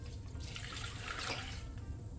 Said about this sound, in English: 2 cups of water in the yeast